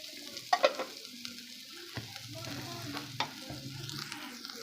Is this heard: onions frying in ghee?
yes